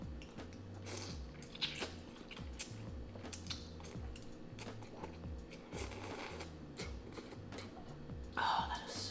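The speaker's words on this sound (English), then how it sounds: "A few more bites of ramen in." Soft, close chewing of bites of Japanese ramen, quiet and steady under faint background music.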